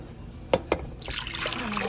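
Water splashes into a crockpot holding chicken, a couple of soft drips followed by a steady pour that keeps running quietly and close by.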